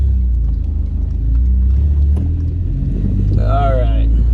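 A 1996 Honda Accord fitted with a Spec D exhaust drives along, its low engine drone and exhaust rumble loud and steady inside the cabin, with a voice talking over it and a brief whine near the end.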